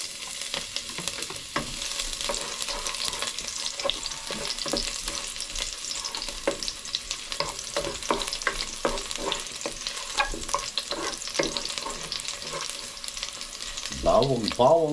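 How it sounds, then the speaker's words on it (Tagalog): Garlic sizzles and crackles steadily in a hot pan while being stirred, the frying loud and continuous throughout, with a brief voice-like sound near the end. "Okay, mainit na itong ating kawali. Magigisa na tayo. Siyempre, unahin natin yung bawang."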